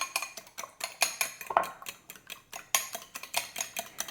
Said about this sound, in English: We whisk the egg lightly